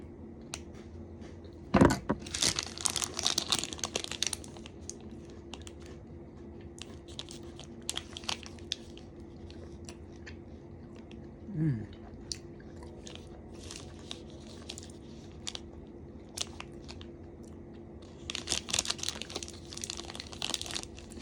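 A sharp Twix wrapper crinkle and a crisp bite near the start, then quiet chewing and occasional crunches, with more rustling toward the end.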